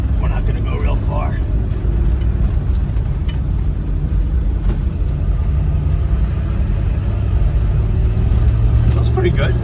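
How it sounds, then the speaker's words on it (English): Driving a Mercury Montego wagon with a 351 Cleveland V8 and 4-speed produces a steady low engine rumble from inside the cabin, with people talking over it throughout. "351 Cleveland under the hood. We're not gonna go real far."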